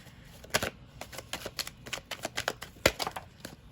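Tarot cards are shuffled in a rapid run of crisp riffling slaps and flicks, close and fairly quiet, with no talk.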